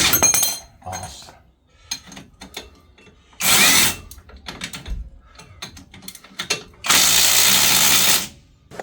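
Power tool loosening the top 18 mm bolts on a VW MK3 Golf during a CV joint job, with loud close bursts of whirring ratchet buzz separated by quieter clanks and handling noise, the last and longest run lasting almost two seconds.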